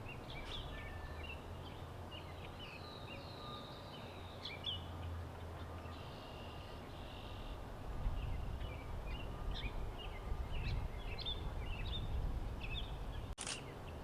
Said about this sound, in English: Here's one more new warbler species, a male yellow warbler.